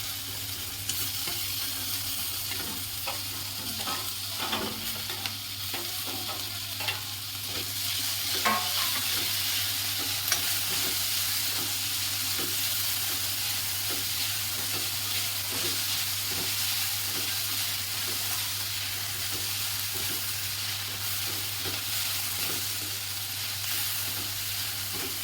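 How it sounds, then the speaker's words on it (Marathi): Masala with chopped tomatoes being sautéed in a pan for khaman poha, a steady sizzle and hiss with occasional scraping stir strokes, close and continuous throughout. "आता आपला मसाला परतून झालेला आहे"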